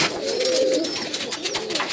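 Girribaj pigeons coo in low throaty rolls at a large farm holding hundreds of birds, close and steady, with a busy wash of wingbeats and rustling behind.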